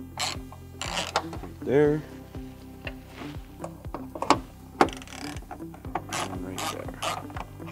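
A socket ratchet clicks in short bursts while loosening 10 mm nuts behind a pulled-open panel on a 2014-2022 Toyota 4Runner tail light, with brief talk between the close, dry clicking runs.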